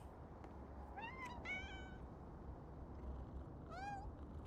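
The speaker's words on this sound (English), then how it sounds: "We're gonna pet our cats." Cats in Powerwash Simulator 2 meowing: three clear meows, two close together and a third after a pause, heard over a steady low background hum.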